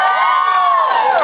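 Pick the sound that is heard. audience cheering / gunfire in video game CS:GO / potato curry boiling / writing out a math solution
audience cheering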